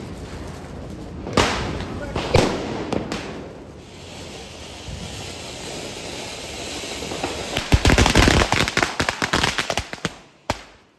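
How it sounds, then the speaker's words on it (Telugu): Deepawali firecrackers and fireworks bursting outdoors, a few sharp bangs early, then a rapid crackling string of pops that fades out, with a voice talking underneath. "బాణసంచా కాల్చి పడేసాం అనమాట"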